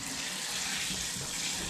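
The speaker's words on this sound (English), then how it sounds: "I'm just going to give this a little rinse because it is a bit mucky" Tap water runs steadily as a mucky airlock from a rhubarb and hops cider home brew is rinsed at a sink, a continuous close splashing hiss with no talk.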